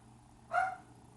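A dog indoors gives a single short bark at moderate distance, with quiet room tone before and after.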